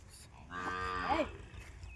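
A single cow moos clearly in a rural Indian dairy setting with around ninety cows, a long drawn-out call with a rising, bending pitch, fairly close and loud above quiet background noise.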